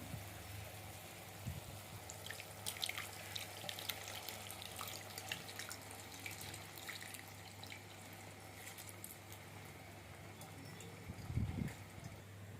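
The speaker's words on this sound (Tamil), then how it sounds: "அதுலேயே இன்னும் கொஞ்சம் தண்ணி சேர்த்து ஊற்றிட்டேன்" Water is poured into soaked tamarind while making a sardine fish curry, a faint, steady trickle and splash with a few clunks of vessels, quiet and close, with no talk.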